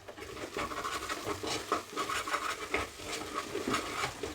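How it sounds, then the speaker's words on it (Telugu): Ginger garlic paste with onions stirred in a pan for goat head curry, producing continuous rough scraping and rubbing of the utensil with soft sizzling, fairly close and steady. "సో ఈ అల్లం వెల్లుల్లి పేస్ట్ పచ్చివాసన పోయేంత వరకు కలుపుకోవాలి."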